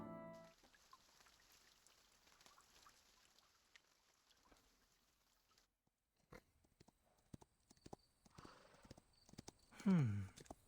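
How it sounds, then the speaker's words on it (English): A white horse's hooves clop in a few scattered, uneven steps amid quiet surroundings, with a louder burst of hoof noise near the end. "The white horse prances forward a few steps, matching Perun's pace."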